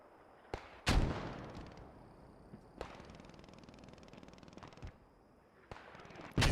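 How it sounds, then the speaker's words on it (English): Mortar barrage in the WWII shooter Post Scriptum, Allied mortars landing on Partisan positions: several sharp, booming impacts spaced a second or two apart, one especially loud, with rumbling tails between them and no talk. "the allies are bringing down mortars on the Partisans"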